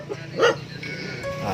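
A dog gives a single bark at medium distance in a room with background noise, with voices faintly present.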